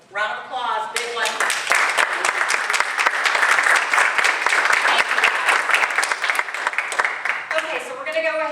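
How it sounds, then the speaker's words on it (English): Sustained crowd applause from an audience at a real estate investors' meeting, steady and dense for several seconds before tapering, with speech at the very start and end. "So, round of applause, big one."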